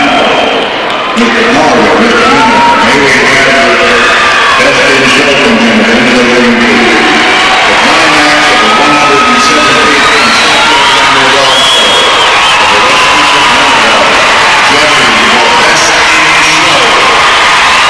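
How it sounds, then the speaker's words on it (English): Packed Madison Square Garden arena crowd at the 1993 Westminster Kennel Club Best in Show cheering wildly as dogs enter the floor, a loud continuous roar with whoops throughout, commentary voice over it. "Here they come, the crowd goes nuts."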